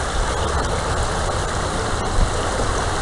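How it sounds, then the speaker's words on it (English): Stream water flows and splashes outdoors in a loud, steady broadband rush with no pauses, heard close and alone. "go under the stream and listen to the water."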